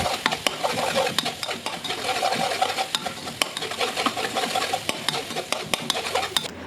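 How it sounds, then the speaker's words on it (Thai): Cane sugar syrup and coconut cream are stirred together in a pan for a Thai dessert: continuous close scraping and churning with frequent sharp clicks of the utensil against the pan, steady and fairly loud. "เราค่อยนำในส่วนของน้ำตาลอ้อยที่เราเคี่ยวพักไว้นะคะ มาเทผสมลงไปนะคะ ผัดให้ทุกอย่างเข้ากันค่ะ"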